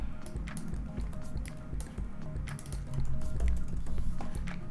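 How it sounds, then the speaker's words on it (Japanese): Keys clack steadily on a computer keyboard as text is typed, a busy stream of close taps over a low background hum. "レディーフォーサマーというテキストを打つんですが、レディーとサマーだけ打ちます"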